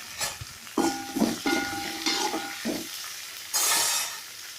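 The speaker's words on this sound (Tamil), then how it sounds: "நறுக்கி வச்ச வெள்ளைப்பூடு தக்காளி பச்சை மிளகாய் அதோடு சேர்த்து வதக்கிக்குவோம்" A utensil scrapes and stirs a pan in several strokes over a soft, steady sizzle of garlic, tomato and green chilies sautéing in coconut oil.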